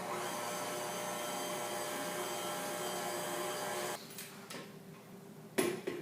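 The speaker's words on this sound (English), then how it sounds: "And then I'll latch my flour back and relock my mixer." Stand mixer works cinnamon twist dough with a steady, even motor whir for about four seconds, then stops, leaving quiet clatter and a brief knock near the end.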